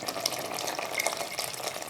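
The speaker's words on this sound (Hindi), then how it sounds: "थोड़ी सी यखनी डाल दें, जो हमने यखनी निकाल के रखी थी ना गोश्त को पकाकर" Meat stock (yakhni) from cooked mutton being poured into a pot of simmering potatoes for aloo gosht, a steady close liquid pour with bubbling splashes lasting about two seconds, no voices.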